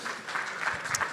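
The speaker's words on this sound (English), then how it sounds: "big round of applause for Silvia, please." Conference audience at a blockchain summit applauding a speaker, a steady wash of clapping from many hands at moderate level, with no voices over it.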